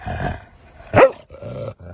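A small dog gives a single short, sharp bark indoors, bracketed by low growly vocal sounds, close and moderately loud.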